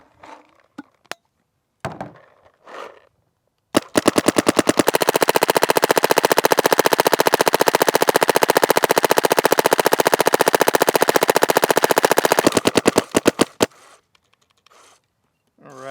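A Planet Eclipse Etha 3 paintball marker fires in a long, rapid burst of sharp snapping shots, preceded and followed by brief talk and a few scattered clicks.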